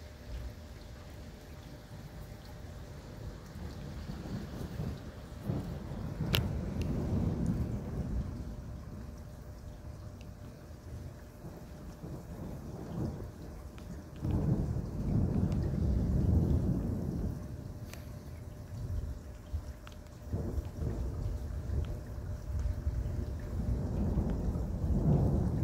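A heavy thunderstorm with a steady downpour of rain and deep, powerful rolls of thunder rumbling in waves, loud and continuous with no voices.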